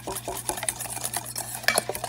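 Chicken thighs coated with ranch seasoning and oil are stirred together in a bowl with a spoon, giving close, wet squelching and clinking scrapes in an uneven rhythm over a low hum.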